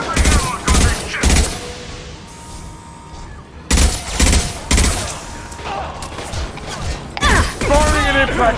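Gunfire from a video game sci-fi shooter on a prison ship: bursts of loud shots in clusters with gaps, mixed with game music and effects, and a voice speaking over parts of it.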